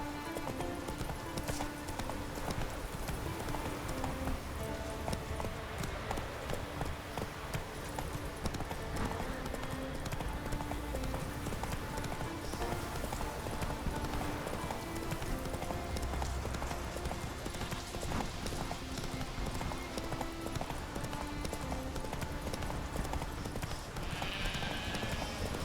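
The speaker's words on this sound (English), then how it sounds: "Whoa there, Roach." Horse hooves gallop in the video game Witcher 3, a rapid, continuous clip-clop rhythm that stays loud and close throughout, with game music and a brief whinny underneath.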